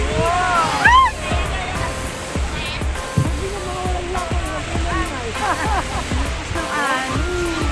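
Rushing, churning water roars steadily throughout, rough river rapids while rafting at Nagatoro, Saitama, with excited shouts and voices breaking in over the noise.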